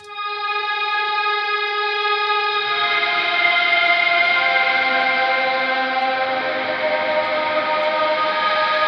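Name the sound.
wet reverb with amp distortion, echoey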